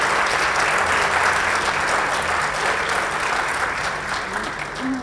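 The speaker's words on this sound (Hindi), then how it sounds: "तालियां हर वक्त तालियां" Dense, sustained applause from a large audience at a Hindi television special show, a loud continuous wash of clapping that holds steady for five seconds and eases slightly at the end.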